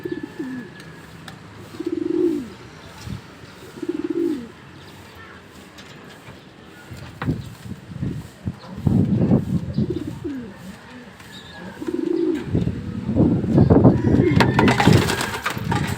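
Racing pigeons coo in soft repeated bursts at a derby loft, with several low throaty calls early on, then a busier stretch of cooing, fluttering and movement that grows louder toward the end.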